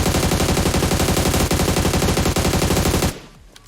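An AUG rifle in PUBG Mobile fires a long, rapid burst of evenly spaced, loud shots for about three seconds, then stops abruptly into near silence.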